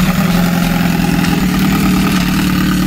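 A Yamaha Raptor 700 quad bike with a stage 3 setup idles loudly and steadily up close, giving a deep, even engine rumble with constant vibration and no talking.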